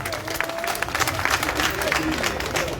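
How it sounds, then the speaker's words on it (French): Audience applause at a press conference, a steady crowded patter of many hands clapping throughout, with a murmur of voices under it. "Applaudissez."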